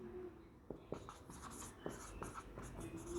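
Marker or chalk scratching on a board while a maths problem is worked out, faint strokes and taps scattered over a steady background hiss, with no speech.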